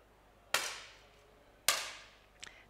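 Two sharp 10m air pistol shots crack about a second apart in a shooting final, each with a quick decaying tail, heard cleanly without talk.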